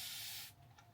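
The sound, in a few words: Tangle Teezer spray bottle spraying water mist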